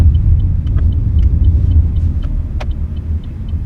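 A car driving on the road, heard from inside as a loud, steady low engine and tyre rumble with faint clicks and ticks over it.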